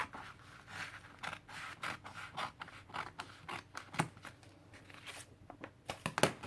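Scissors trim paper for a junk journal in a string of quiet, irregular snips and soft scrapes, close and alone.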